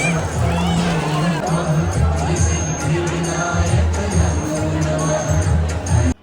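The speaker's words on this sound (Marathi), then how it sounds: "गर्दी बघा, पावसात पण चालू आहे." A crowd mills about at the Babu Genu Ganpati pandal in Pune during rain, a dense, continuous hubbub of many voices and movement with people talking nearby.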